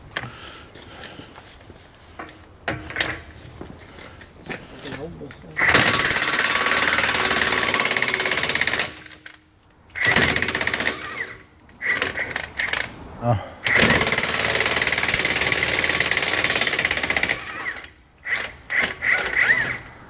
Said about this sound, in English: Thank goodness for that 1-inch Ingersoll Rand electric impact.